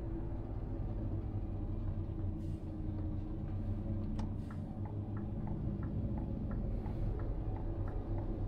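Scania R 500 truck in Euro Truck Simulator 2 slowing under its retarder, a steady low engine and drivetrain rumble with faint repeating ticks riding over it.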